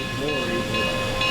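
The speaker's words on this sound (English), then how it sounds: "Locomotive number 482 will exit the turntable by entering the Roundhouse once again and exiting through the rear door" Durango and Silverton narrow gauge steam locomotive No. 482 moves inside a roundhouse, with a steady mechanical hum and a soft hiss that hold evenly throughout.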